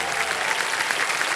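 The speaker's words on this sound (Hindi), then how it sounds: "तालियां बज जाएं इनके लिए" A brief, dense burst of studio audience applause on the KBC Season 17 game show, even and full-bodied, with steady clapping for just over a second.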